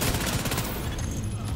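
Assault rifle gunfire in the shooter game The Division 2, a dense, fast rattle of automatic shots that fades in a short burst.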